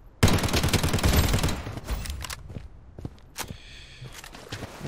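Dense burst of automatic gunfire from a shooter game with a KAG-6 rifle build, loud and rapid for over a second, then sparser single shots and footsteps scattered through quieter stretches.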